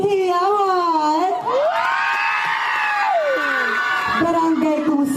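A lively crowd cheers and shouts, led by loud, close, high-pitched whooping voices rising and falling over a continuous din of hollering.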